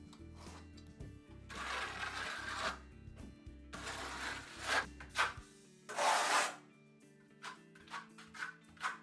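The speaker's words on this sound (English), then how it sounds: "applying your tape and smoothing it down with the edge of your trowel." A trowel edge smooths joint tape over wall board on a stud wall prepared for tiling, making repeated dry scraping sweeps in uneven bursts with short pauses between them, close and fairly quiet, with no talking.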